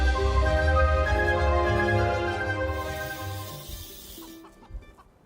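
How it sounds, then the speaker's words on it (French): Hens cluck in a tight chorus of overlapping calls close by, loud at first and then thinning out near the end, with no voices. "à Brida ils ont des poules"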